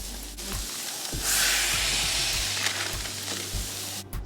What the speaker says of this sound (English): Cook some Bootleg bacon. That's turkey bacon. Smash your burgers.